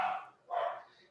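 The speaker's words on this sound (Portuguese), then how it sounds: "se os cachorros não atrapalharem de novo" Two short bursts of dog barking, a pause between them, fairly close and moderately loud.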